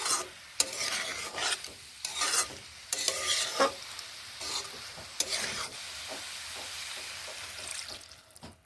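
Beans cooking in a pan as water goes in and gets stirred through, with sizzling, hissing and scraping spoon strokes in uneven bursts that settle into a steadier bubbling hiss.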